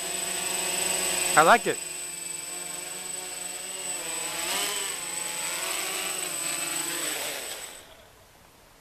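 A small PVC-frame quadcopter with cut-down 8-inch propellers flies nearby. Its steady buzzing whine rises and falls in pitch with throttle changes, and it fades away at the end. Someone speaks briefly early on.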